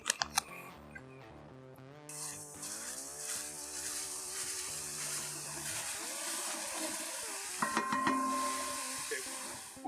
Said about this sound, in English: We got our sausage here, it's browning